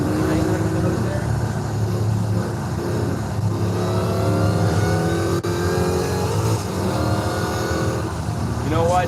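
Supercharged LS5 V8 in an American muscle car revving in Forza Horizon 5, a loud, steady engine drone with rising and falling pitch sweeps through the clip, someone talking over it.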